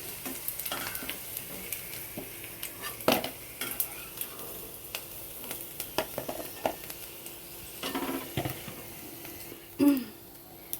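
Papad frying in a pan, a continuous crackling sizzle broken by frequent scrapes and taps of a utensil on the metal, close up, with a faint voice briefly audible near the end.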